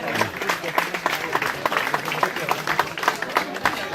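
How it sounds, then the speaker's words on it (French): Audience applause for rally winners at a club prize-giving, a dense crackle of many hands clapping steadily and fairly close for the whole stretch. "Des applaudissements, s'il vous plaît."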